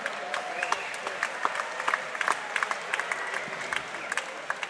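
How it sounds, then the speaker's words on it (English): Applause from the crowd at a Muay Thai fight event, moderate and somewhat distant, with individual claps and sharp bursts standing out over a steady patter and murmuring voices. "Ladies and gentlemen, round of applause for Jacob and Kalim."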